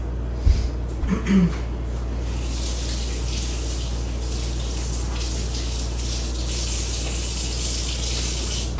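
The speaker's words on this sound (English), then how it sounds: "Let me wash my hands again, just rinse them." Kitchen tap running steadily as hands are rinsed in a sink while preparing a pork tenderloin, a constant close splashing rush with a few brief knocks near the start and no talking.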